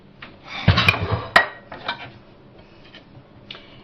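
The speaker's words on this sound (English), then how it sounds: "I'll pop that onto a plate." An orange and raisin loaf set down onto a plate, giving a sharp close clatter and a second clink of crockery, followed by a few faint soft knocks.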